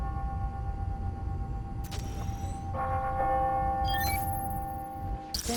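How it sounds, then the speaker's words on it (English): Clock tower bells in Spider-Man: Miles Morales ring out on the hour. The bell tones sound ringing and sustained over a steady in-game city background, with brighter strikes near the end. "I hear those bells"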